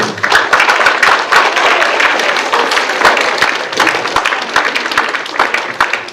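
Audience applause at a high school writers' week event, a dense steady wash of many hands clapping at full volume throughout, with sharp individual claps standing out near the front.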